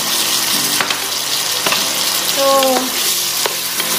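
Sliced white onion sizzling with pork liver and oyster sauce in a pan, a steady broadband fry with scattered stirring knocks and a short tonal squeak near the middle, with a brief word spoken at the start.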